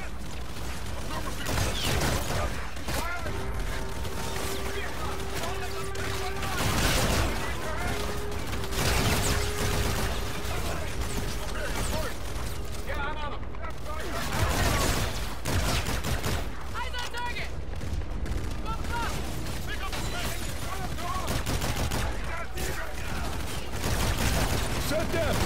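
Rifle gunfire in a video game, with repeated bursts of shots and clattering mechanical sounds over a busy, constant background, while people talk throughout.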